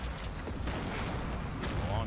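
Assault rifle fire in the Fortnite battle royale game, a dense, continuous burst of shots and explosions layered together, loud and close throughout, with a commentator talking over it.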